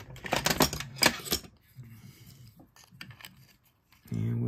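Small metal parts of a Garcia Abumatic 290 fishing reel clicking and rattling as a piece is screwed back in, a quick flurry of close ticks and scrapes followed by quieter handling, then a steady hum at the end.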